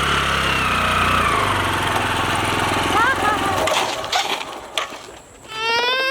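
A motorcycle engine runs with a buzzing, pulsing drone that fades away after a few seconds, leaving quieter background noise and faint chirps near the end.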